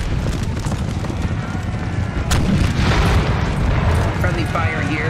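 Artillery fire on a Napoleonic battlefield in a Total War game, a heavy boom around the middle rolling over a busy din of cavalry hooves and distant gunfire, with a voice talking over it.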